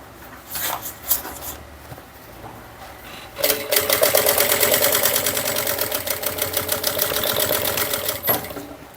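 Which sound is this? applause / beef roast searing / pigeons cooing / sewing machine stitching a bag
sewing machine stitching a bag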